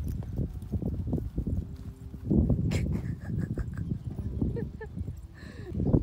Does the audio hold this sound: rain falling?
no